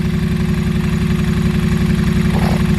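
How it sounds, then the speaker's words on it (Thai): A 2017 Triumph T100 classic motorcycle idles close by, a steady low, even rumble with a pulsing exhaust beat throughout and no talking. "ให้ฟังเสียงเครื่องก่อน"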